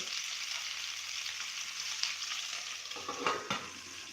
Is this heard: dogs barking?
no